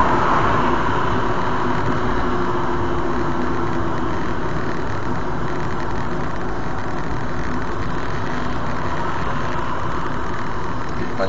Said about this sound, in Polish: silnikiem hamujemy